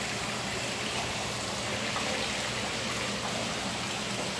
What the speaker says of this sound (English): I don't know if you can hear the sound of that water.